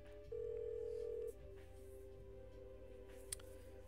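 Telephone ringing in the Kathy Rain detective video game: a single long, steady electronic ring tone sounds once, then a quieter line hum continues, with a short click near the end.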